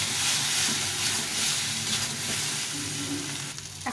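Kashmiri chili powder frying in oil in a pan for a soybean curry, a loud close sizzle and hiss with occasional stirring scrapes that eases slightly toward the end, with no voices.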